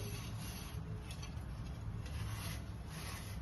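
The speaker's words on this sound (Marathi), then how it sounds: "या पद्धतीने झाकणे पुसून घ्यायचे कोरडे" Dry cloth rubs over new clay pot lids in steady, scratchy wiping strokes, close and continuous for a few seconds, with no voices.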